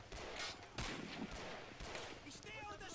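Soldiers fire guns in the video game Men of War: sharp, close shots and short bursts crack out irregularly across a few seconds of battle noise, with speech mixed in.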